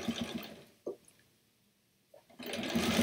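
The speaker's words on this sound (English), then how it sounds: "When I sew binding on, a lot of times I do use my walking foot." A home sewing machine fitted with a walking foot stitches quilt binding in two short, close bursts of whirring, one at the start and one at the end, with a near-silent pause between.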